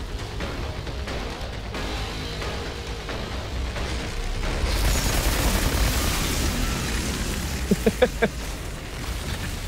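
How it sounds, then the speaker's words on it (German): A deep rumbling explosion swells midway through combat in the Outriders Worldslayer video game, followed by a quick cluster of sharp pops or shots near the end over steady background noise. "Jetzt explodiert."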